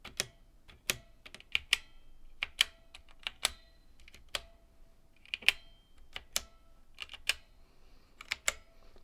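Keystrokes on a computer keyboard with red linear switches, close and crisp, in irregular bursts of quick taps with short pauses between, and no talking.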